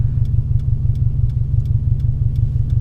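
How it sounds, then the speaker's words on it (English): A car engine idles smoothly below 500 RPM, a loud, steady low rumble with faint regular ticks on top and nobody speaking. "It's a nice idle sound. I like it that it's smoothly idling under 500 RPM."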